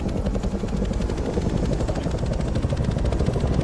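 A helicopter lifts off from a runway in the video game Arma 3, its rotor blades thumping in a loud, rapid, continuous pulse over a dense engine roar.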